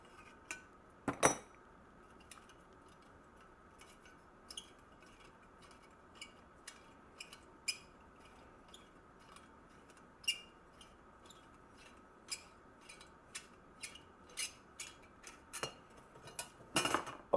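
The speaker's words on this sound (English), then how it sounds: "So basically I'm just trying to loosen this nut." Small metal clinks and ticks ring out sporadically while a nut on a Coleman 202 lantern is worked loose, sharp close taps scattered over a quiet background, growing more frequent toward the end.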